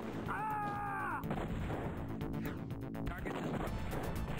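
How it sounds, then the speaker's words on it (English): Grenade explosions and gunfire in the video game Z, heavy booming blasts and crashes over dense battle noise after a rising electronic tone, loud and continuous. "Go, grenades!"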